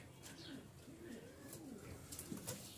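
Pigeons coo softly on a pigeon farm, a few low rolling calls repeating through steady background noise, fairly close.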